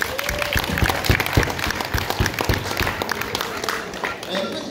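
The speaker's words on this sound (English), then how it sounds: "So I think that does deserve a round of applause." An audience claps and cheers at an awards ceremony, a dense burst of applause with crowd noise and some voices mixed in.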